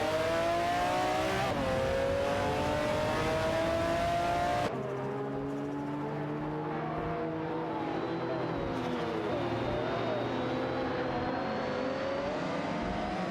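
Race cars in an AI racing video game, including a 1991 Honda CRX, scream past with sustained high engine whines that shift pitch as they rev and pass. The cars are loud and continuous, and one engine note cuts sharply to another partway through.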